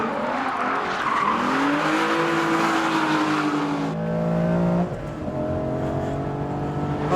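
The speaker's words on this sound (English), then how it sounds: "So when we go into Knickerbrook chicane, we can probably just pull a bit of a drift there." A 2006 MINI Cooper S JCW GP drifting through the Knickerbrook chicane, its tires squealing in long rising and falling wails over a loud, steady engine drone, close and continuous.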